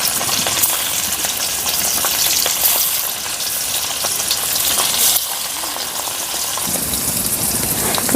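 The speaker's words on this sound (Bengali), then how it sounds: "ওই তেলেই আমি পনিরগুলোকে ভেজে নিচ্ছি।" Paneer frying in oil left over from frying potatoes, a loud, close sizzle and crackle that continues for several seconds with small bursts and no voices.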